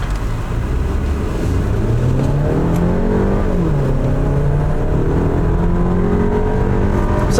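A 2024 VW Tiguan R-Line SUV in sport mode accelerates hard from a standstill, its engine note climbing steadily through the gears, loud and continuous, heard from inside the cabin.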